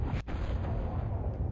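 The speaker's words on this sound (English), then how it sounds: "Ignore those random explosions. They're from that stuff over there." Artillery explosions in a tank-battle video game make a continuous low, rumbling roar with one sharper burst near the start, heard at moderate loudness throughout.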